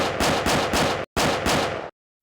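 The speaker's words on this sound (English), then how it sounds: "6 gunshots shatter the quiet night." Gunshots ring out at night in a rapid volley, several loud close blasts in two tight bursts split by a short gap, then silence.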